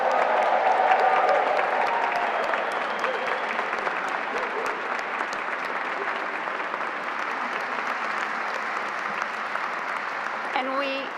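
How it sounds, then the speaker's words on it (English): Sustained, enthusiastic audience applause at a university presidential investiture ceremony, a dense wash of clapping from a large crowd that continues steadily throughout with faint voices mixed in. "please join me in one more enthusiastic round of applause and celebration for our new president"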